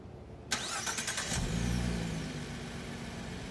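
A car's engine is started with a push-button ignition: a quick whirring crank cuts in, then the engine catches and settles into a steady, fairly quiet idle, with no talking.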